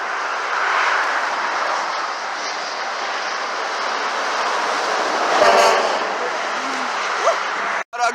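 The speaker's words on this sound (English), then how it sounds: "An ugly Cascadia and a box truck with horns." Train horn mounted on a box truck passing on an interstate, a sustained blaring tone over heavy traffic roar that swells and fades, followed by a brief sharp cutoff.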